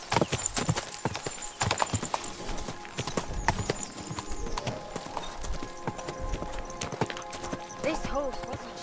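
Horse hooves clip-clop steadily in the video game Kingdom Come: Deliverance II, a close, brisk rhythmic trot running throughout, with voices speaking and a short whinny near the end.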